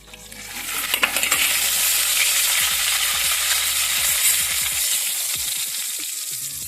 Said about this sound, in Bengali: ডিমটা আমার ভাজা হয়ে গেছে, আমি তুলে নেব